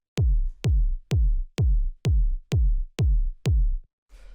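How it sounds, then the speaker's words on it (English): Eight punchy, booming techno kick drum hits repeat at a steady, even tempo, each with a sharp attack and deep low-end decay. "First sound we have here is the kick"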